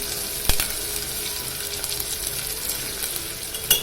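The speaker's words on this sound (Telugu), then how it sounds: "అల్లం వెల్లుల్లి పేస్ట్ దంచుకొని వేసుకున్నాను అది కొంచెం పచ్చి వాసన పోయే వరకు వేయించుకోవాలి" Ginger garlic paste fries in a pan with a steady, close sizzle and crackle, broken by a sharp clack near the start and another at the end.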